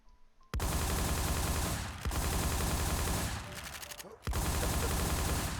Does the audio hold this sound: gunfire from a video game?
yes